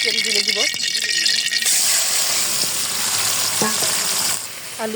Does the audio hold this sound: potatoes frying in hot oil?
yes